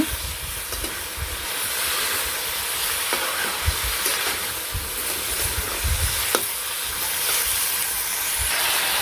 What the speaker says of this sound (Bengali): সবজিটা ভালো করে কষিয়ে নিয়ে তারপর ঝোল দিয়ে দিব